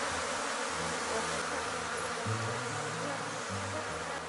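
Honeybee swarm inside a hive, a dense continuous buzzing hum of many bees, close and steady throughout with slight wavering pitch.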